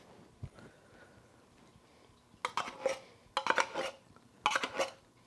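A spoon scrapes condensed milk from a can into a bowl for a lemon meringue pie, giving three short bursts of clinking, scraping metal against the container after a quiet start.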